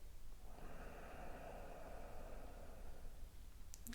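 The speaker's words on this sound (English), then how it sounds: "Take in a nice deep breath." A single long, deep inhalation during a seated warrior meditation, steady and airy, drawn in close to the mic over several seconds with no talk.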